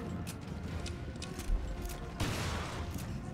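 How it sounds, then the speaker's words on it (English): Shotgun blasts in Resident Evil: Revelations Raid Mode, a few sharp bursts, one louder crack about halfway and another heavy blast later, over continuous game background noise. "Luckily, this is why I packed a shotgun."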